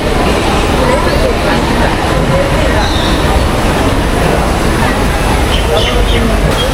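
Busy railway station with a food court and crowds waiting for trains: a dense, steady wash of overlapping voices and chatter under a constant low rumble of station and train noise.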